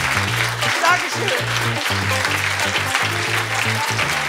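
Audience applause at a comedy panel show, a broad steady wash of clapping filling the room from start to end, with a performer's brief thanks spoken over it.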